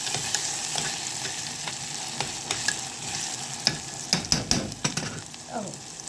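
Tomato sauce for shakshuka sizzles and bubbles steadily in a pan, with scattered louder pops and spatters and occasional stirring scrapes, close and alone without talk.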